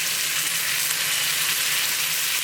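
Miso sauce sizzles steadily in a frying pan over low heat while a rice burger cooks, a continuous close hiss with no talking.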